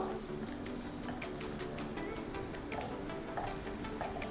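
Lemongrass stalks and spring onions sauté in a pan for a drumstick soup, a steady soft sizzle with light stirring clicks, continuous and fairly quiet, close by.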